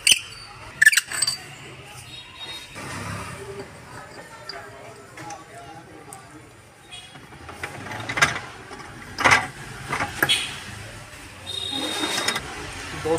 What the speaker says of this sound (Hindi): इसमें हल्का सा रैमर मारेंगे ताकि हमारा ये सॉकेट फट ना जाए